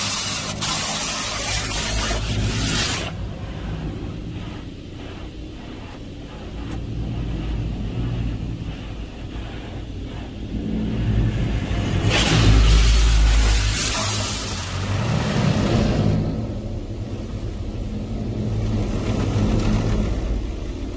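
Water spraying steadily through the rinse stage of a Laserwash G5 touchless car wash bay, a loud continuous hiss with surging bursts and low machinery rumble, heard alone without talk.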